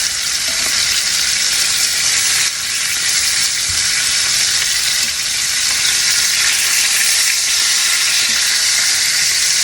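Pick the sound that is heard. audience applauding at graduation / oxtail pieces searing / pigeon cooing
oxtail pieces searing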